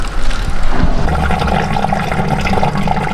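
A water pump in a boat's engine room runs, giving a loud, steady gushing and churning of water with a low mechanical hum underneath, with no talk.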